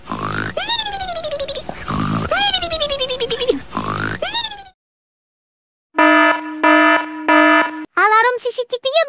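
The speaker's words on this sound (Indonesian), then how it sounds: "Alarm CCTV-nya bunyi." A CCTV security alarm rings in the Sakura School Simulator game, repeated electronic warbling tones in bursts, then a pause and a steady pulsing buzzer pattern, with voiced game sounds mixed in.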